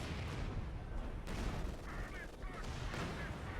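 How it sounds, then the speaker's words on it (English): A precision artillery barrage in Company of Heroes 2: a dense, continuous rumble of distant blasts and booms, steady and moderately loud throughout, with faint higher tones overlaid. "We got a precision barrage."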